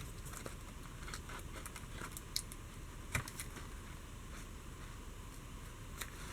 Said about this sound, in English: And then I'm just going to cut that away.